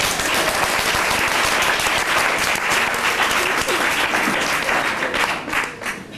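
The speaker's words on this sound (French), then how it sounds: "on les applaudit, papa et la maman" A dense audience applauds the parents at a festive family gathering, steady and loud throughout before thinning slightly at the end, with faint voices mixed into the crowd.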